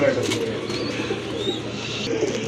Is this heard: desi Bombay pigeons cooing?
yes